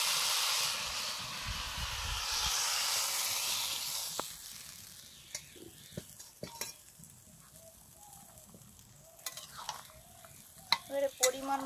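Lightly fried mixed vegetables added back into a pan of dal, beginning with a loud steady sizzle that fades to quieter frying pops and clinks of a utensil stirring the pot.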